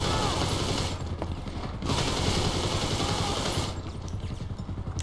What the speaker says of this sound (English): Machine pistol, right?